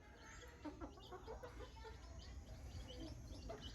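Hybrid junglefowl-domestic chickens cluck in short bursts over a steady low rumble of background noise, with several birds calling near and far.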